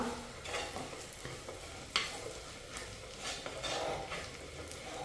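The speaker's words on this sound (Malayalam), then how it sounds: "അതിൻ്റെ പച്ചപ്പ് മാറുന്നോളം വരെ ഒന്ന് ഇളക്കുക" Steady scraping and stirring of chili, turmeric and coriander powders with fish masala in a pan, a soft sizzle running underneath and one sharper clink of the spoon midway, continuous and fairly quiet.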